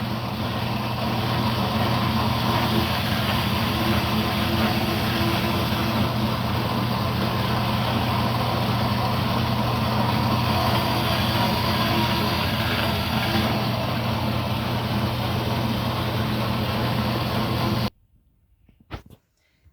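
A dough sheeter rolls rye bread dough with a steady, loud motor hum and drone that holds evenly for nearly eighteen seconds, then cuts off abruptly into near silence.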